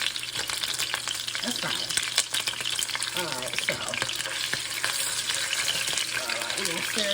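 Seasoned turkey wings searing in a pan, a steady bright sizzle and crackle with occasional stirring scrapes, close up, while a person talks over it.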